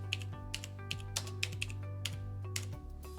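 Rapid keyboard typing on a computer while an apprentice registration form is filled in: a steady run of crisp key clicks with a few louder strokes, close and alone over a low steady hum.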